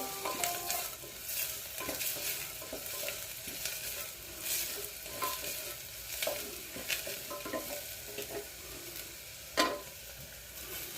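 Ginger and curry leaves sautéing in a pan for green peas masala, a steady sizzle with scraping stirs and occasional sharper clinks of the spoon, close and alone without talk.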